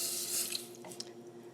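Water runs from a tap and splashes into a saucepan, a steady close rushing stream with a few small splashes.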